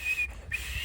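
A person whistles a sustained, thin, steady tone in a comedy sketch, breaking off briefly midway before resuming, faint and close with no talk over it.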